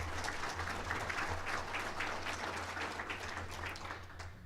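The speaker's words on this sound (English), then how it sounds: "Can we just have a round of applause for the American Ireland Fund?" An audience at a formal council meeting in Palm Beach, Florida, applauds steadily, a dense, continuous wash of clapping from many hands that fades slightly toward the end.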